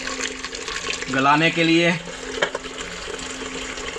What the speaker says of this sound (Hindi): अब इसके अंदर डालेंगे पानी।